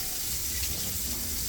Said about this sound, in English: And you can rinse them 2 to 3 times